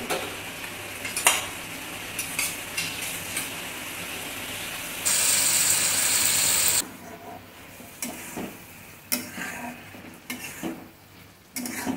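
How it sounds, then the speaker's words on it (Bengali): Pomfret curry is stirred in a pan with a spoon, scraping and clinking against the metal, with a steady sizzle underneath and a brief louder hiss midway. "এবার আবার নাড়িয়ে দিয়ে ঢাকা দিয়ে দেবে"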